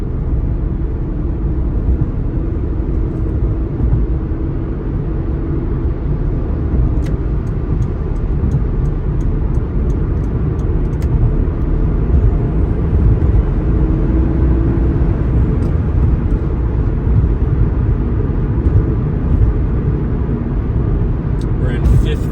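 Toyota Supra with a six-speed V160 Getrag gearbox cruising in fifth gear at the speed limit, a steady loud engine and road drone filling the cabin throughout with little change in pitch.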